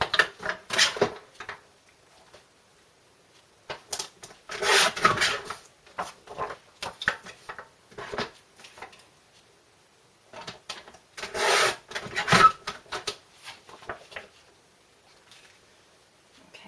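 Trimming a photo down to fit a photo mount gives close scraping and rubbing strokes in several bursts with quiet gaps between them, dry and rasping, with no voices.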